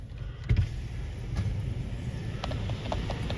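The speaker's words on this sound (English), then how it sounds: "here comes the bus to White Plains" A city bus to White Plains pulls in, its low engine rumble steady and fairly close, with a brief louder thump early on and a few light squeaks or clicks toward the end.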